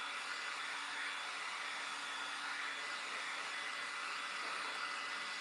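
A hair dryer blowing steadily on a patriotic craft box, a loud, even whooshing hiss that runs without a break from start to end, with no talk.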